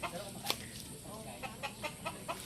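A White Kelso gamefowl rooster gives soft, faint clucks in a short run of low calls against quiet background noise.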